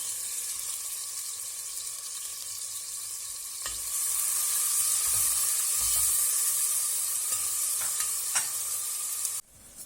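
Steady sizzling of onions frying in oil and butter in a pan, close up, growing louder partway through with a few clinks of a utensil.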